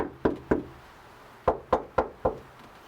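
Knuckles knock on the bare sheet-metal cab of a 1982 Dodge D50 pickup before sound deadening is installed, two quick hollow raps followed by a pause and then four more evenly spaced ones, close and fairly loud, with no talking.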